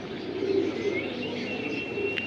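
Pigeons in a dealer's loft collection, a pair on show, cooing in low soft murmurs that run steadily for a couple of seconds, with faint chirps above and a brief voice nearby.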